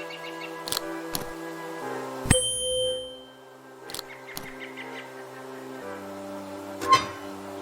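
Bell ringing in the adventure game Willy Morgan and the Curse of Bone Town, a few bright metallic dings and chimes over soft, sustained game music tones.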